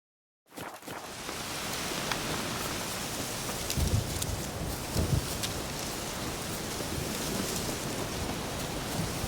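Heavy rain pours steadily in The Witcher 3 after a brief silence, a dense continuous hiss with low thunder rumbles rolling in a couple of times beneath it.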